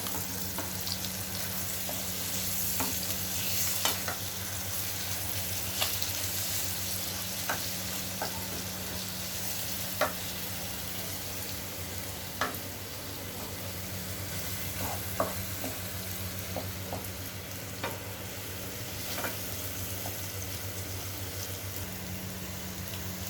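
An egg garlic fry sizzles gently in a pan on a low flame while a spatula stirs it, steady frying hiss with soft periodic scrapes and taps against the pan over a low constant hum.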